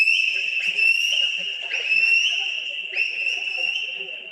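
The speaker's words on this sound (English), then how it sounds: "And that whistling is very common," A shrill, sustained whistle sounds at a youth swimming championship, held nearly continuously with brief breaks and restarts, loud and close over faint background chatter.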